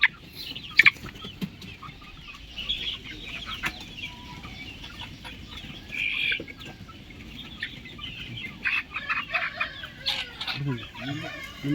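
Chickens cluck and squawk while being vaccinated, with irregular, fairly close calls and a few sharp cries over a quiet background, and occasional handling noises.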